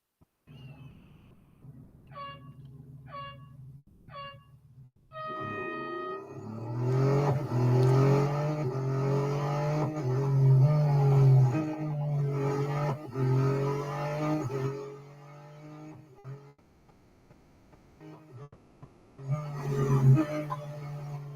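Cars from the Real Racing 3 video game, in autocross and drag race events, rev briefly in a few short bursts, then a sustained loud engine roar climbs and shifts through gears before fading and returning with another burst at the end.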